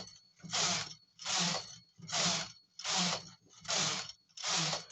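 A domestic knitting machine carriage knitting rows off a hem: six even, rhythmic swishing passes about a second apart, each a loud rasping slide with a low mechanical rumble, and no voices.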